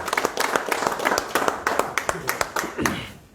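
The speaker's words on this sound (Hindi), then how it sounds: "तालियों के साथ इस्तकबाल करें।" Audience applause breaks out at a political joining event in Surankote, Jammu and Kashmir, welcoming new party members with sustained, fairly close clapping that fades out at the end.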